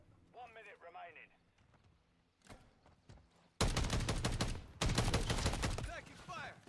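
Bursts of video game gunfire from a Battlefield match, dense rapid shots that start abruptly midway and run loud and continuous to the end, after quieter stretches with a voice speaking and a single sharp shot.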